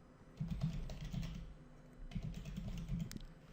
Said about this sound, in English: and then between the double quotes we type, for example, let's type Victor